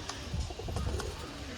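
A pair of Chini homer pigeons coos softly at close range, low murmuring calls repeating in a steady run with a faint chirp now and then over a quiet room.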